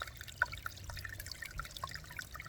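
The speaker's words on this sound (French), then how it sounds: "Tu le vois serpenter dans une forêt claire, tu l'entends couler." A small stream winding through a light forest trickles and flows softly at a distance, with faint scattered drips and bubbling over a steady low wash.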